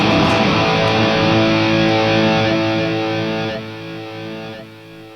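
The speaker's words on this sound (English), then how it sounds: "I like the delays on this unit a lot." Delay effects from a Flamma FX100 multi-effects unit give a dense, distorted electric guitar chord with thick overlapping echoes. The sound is loud at first, then steps down in level as the repeats decay.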